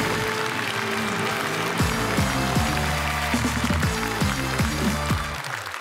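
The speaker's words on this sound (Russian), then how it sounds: "Аплодисменты, Харлам." Studio audience at a Comedy Club television taping applauding loudly and continuously, the dense clapping mixed with a booming, rhythmic music sting that cuts off near the end.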